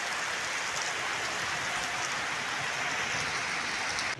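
Steady rainfall on a village farm during sowing season, a soft continuous hiss of drops hitting surfaces, moderately distant and unbroken, with no voices.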